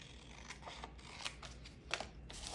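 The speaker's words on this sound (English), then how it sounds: "let's cut this one off" Scissors snipping through paper while making a double pocket coin envelope for a junk journal, a few quiet, close crisp cuts spaced irregularly over a soft background.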